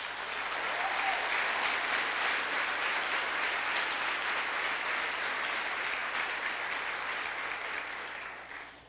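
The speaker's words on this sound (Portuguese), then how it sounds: "Você pode dar um aplauso ao Senhor?" Congregation applauding during a church service, a broad sustained roar of clapping that holds evenly for several seconds at a moderate distance, then begins to fade, with no voices over it.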